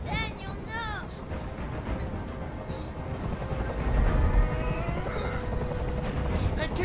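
Helicopter hovering in the video game Detroit: Become Human, a continuous rotor thrum beneath tense background scoring and scattered game effects, fairly loud and close through the whole scene.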